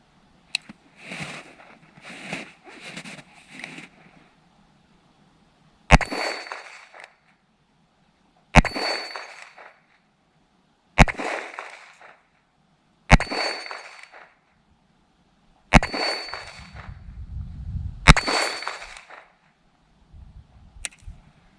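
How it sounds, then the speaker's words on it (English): Six sharp reports from a Ruger Wrangler revolver at a steel target over 120 yards away, each a crisp crack spaced a few seconds apart, some followed by a ringing metallic decay, with faint rustling between shots. "6 shots goes pretty freaking quick."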